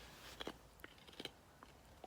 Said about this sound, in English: It's a little distracting, the bone chewing, isn't it?